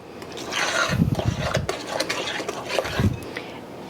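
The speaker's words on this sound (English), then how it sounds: "Stir that in." Pineapple juice and banana bread batter are stirred in a bowl with a utensil, making soft, wet rubbing and scraping strokes, close and moderately loud, in an uneven rhythm.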